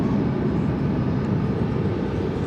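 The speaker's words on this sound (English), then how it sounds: "a UPS Tri-Jet MD-11. It's just backing out now" A UPS MD-11 tri-jet pushes back at DFW airport at night, its engines giving a steady, continuous roar that holds evenly throughout with no speech.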